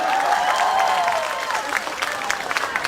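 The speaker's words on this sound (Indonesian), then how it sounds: "Tepuk tangan buat tukang son." Audience applause at a live Islamic religious talk in Taiwan: a burst of clapping with a crowd's scattered claps fading in and out, while a voice rises over it at the start.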